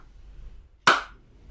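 A single sharp hand clap, close and crisp, standing alone against a quiet room background.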